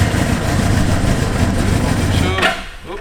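A 1980 Suzuki GS 750 motorcycle engine running with a loud, steady low rumble close by, then cutting off abruptly near the end with a brief clatter.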